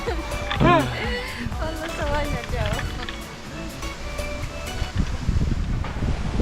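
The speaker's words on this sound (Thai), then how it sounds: "อุ้ยลมแรง" Strong wind gusts buffet the microphone on a zipline platform at Hanuman World in Phuket during the rainy season, a rough roaring rush under close excited voices.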